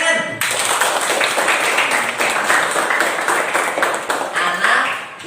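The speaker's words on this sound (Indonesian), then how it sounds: "Tepuk tangan." A classroom full of students claps together in steady, dense applause for several seconds after a teacher's praise, fading slightly toward the end.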